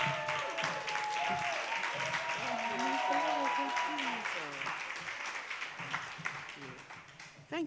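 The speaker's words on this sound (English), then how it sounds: "please join me in an amazing round of applause" Audience applause at an awards brunch as a speaker is welcomed to the stage, a steady wash of clapping running under a voice talking over it, tapering off near the end before a sharp final bump.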